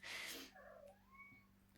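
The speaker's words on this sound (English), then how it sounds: "I'm really sorry if you can hear my cat. He is crying." A crying cat gives a loud drawn-out meow, then softer wavering cries fade off in a quiet room, with a steady low hum underneath.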